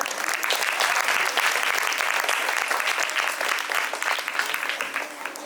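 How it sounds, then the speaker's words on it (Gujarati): Sustained audience applause fills the hall at a children's poetry gathering in a school, dense and steady clapping from a large crowd, tapering slightly toward the end. "બધા માટે એકવાર જોરદાર તાળીઓ"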